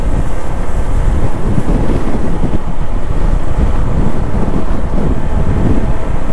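Powerful typhoon wind roars and buffets the microphone in a constant, loud, low rumble with no let-up and no voices, in Bohol, Philippines.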